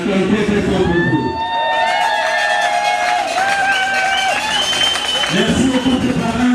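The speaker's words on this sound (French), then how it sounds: "pendant qu'on acclame très très fort pour vous" A wedding crowd cheers loudly for the couple's parents, with sustained massed shouting and high wavering cries and whoops layered on top throughout.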